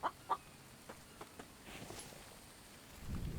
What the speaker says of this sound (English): Wait, why isn't that chicken running away?